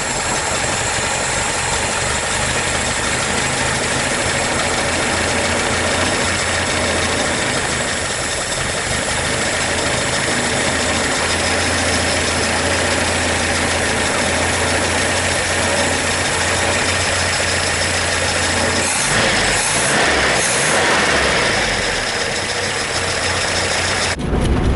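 A 1981/82 Chevrolet Chevette carburetted engine idles steadily and loudly while warming up for a long stretch, a constant rough rumble with slight fluctuations and no talking.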